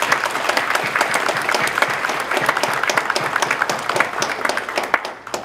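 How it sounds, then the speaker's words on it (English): An audience gives sustained applause to student award recipients at a leadership recognition program, close and loud with many individual claps audible, fading slightly near the end. "let's give them that first round of applause"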